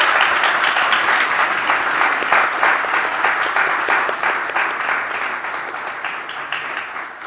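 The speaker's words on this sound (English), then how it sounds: "let's give Richard a round of applause" A live virtual-stream event audience claps for Richard, giving a dense, sustained round of applause that stays loud throughout and tapers slightly toward the end.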